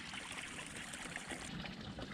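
Overflow water from a saturated Japanese rice field trickles and pours steadily into a channel, a continuous close, moderately faint running-water sound with no voices.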